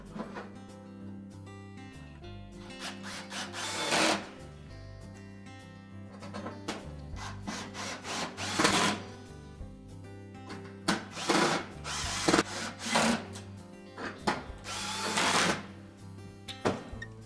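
A power drill whirs in repeated short bursts, driving retaining screws into a Whirlpool range panel, each spin rising sharply and then stopping, close and fairly loud with quiet gaps between.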